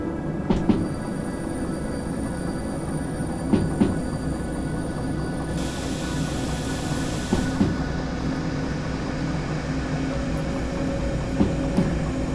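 A DE02 diesel locomotive in Derail Valley runs with a steady, droning engine hum under a rail clack that repeats every few seconds, and a brief hiss partway through. No one talks.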